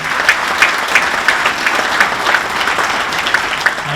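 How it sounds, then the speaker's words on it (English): A crowd applauds at a sports hall of fame induction ceremony, a loud and even round of clapping with sharp individual claps standing out in a steady rhythm. "I've got a big round of applause for Mr. John Josendale"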